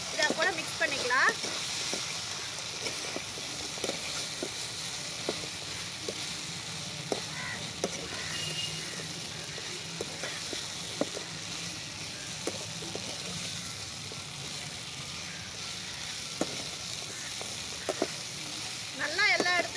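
Cauliflower being stirred and fried in a pan for Gobi Manchurian gives a steady close sizzle, punctuated by scraping stirs and clicks of the spoon against the pan.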